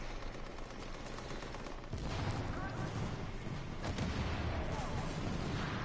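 Video-game gunfire keeps up in dense, overlapping volleys that swell louder partway through, a steady barrage of rapid shots and heavy booms that never lets up.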